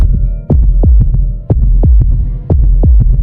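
Pounding heartbeat effect for a horror narration, loud and close: deep double thumps repeating in a steady throbbing rhythm over a low hum, with no voice.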